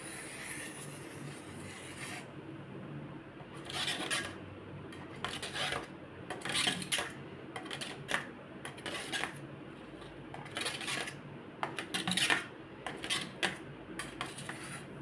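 A set dessert is cut on a plate, giving irregular scraping and clinking of a utensil against the plate in short bursts. The sounds are close and moderately quiet, with no speech.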